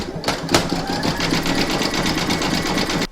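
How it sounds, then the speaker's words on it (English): Embroidery sewing machine stitching the zigzag edge around an in-the-hoop stacked Christmas tree: rapid, regular needle clatter with a humming motor, close and steady throughout, with one sharp tap early on. "You're going to stitch round number 6, and that's going to do the zigzagging all the way around the edge here."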